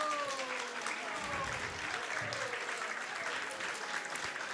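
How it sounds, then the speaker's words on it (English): Audience applause in a hall during a devotional kirtan and talk, a steady wash of clapping that holds evenly throughout, with faint voices underneath. "So we once again, please give a big round of applause to our..."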